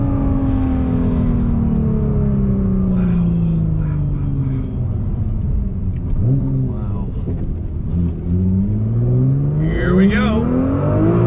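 A modified 2018 Nissan GTR R35 revs loudly up through the gears, its engine note rising and dropping with shifts and a few sharp exhaust pops, while someone talks over it.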